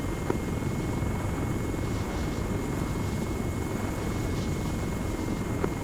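Helicopter approaching an oil rig helipad during a hostage rescue operation, a steady distant rotor and engine drone with a thin whine, continuous and fairly faint, no voices.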